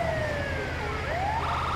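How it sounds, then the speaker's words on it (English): In GTA V an ambulance siren wails, rising and falling, loud and steady over engine rumble, with no voices. "that was a good call on the ambulance, Eddie."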